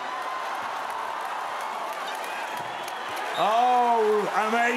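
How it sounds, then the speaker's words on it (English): A beach volleyball crowd at the women's championships in Hamburg breaks into applause, a broad steady roar of clapping, with a commentator talking over it, and the cheering swells louder near the end. "They are on their feet with rapturous applause"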